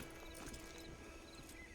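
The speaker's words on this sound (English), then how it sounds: "Get on the horse when you're ready." Horse hooves clip-clop in Red Dead Redemption 2, a steady rhythm of soft hoofbeats at a walking pace under a constant bed of outdoor game ambience, fairly faint, with no talking.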